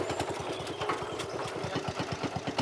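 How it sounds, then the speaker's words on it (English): A vintage farm tractor engine chugs steadily while ploughing, a rapid, even low thumping of firing pulses at close range with no talk over it. "The trusty tractor is ready to go."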